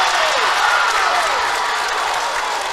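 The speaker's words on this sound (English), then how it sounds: "you've got Columbus fans cheering, and you've got Gibraltar fans saying, no way" A high-school boys' basketball crowd at a sectional championship game roars and applauds after a call, a dense, sustained wash of cheering that fills the gym and fades slightly toward the end.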